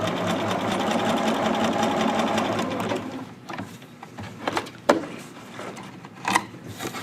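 Close sewing machine basting the edges of fabric for a jogger waistband, a continuous whir for about three seconds, then quieter scraping and handling noises with a few sharp knocks.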